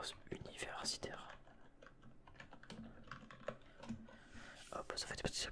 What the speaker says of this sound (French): ça fait des petits bruits de clavier en même temps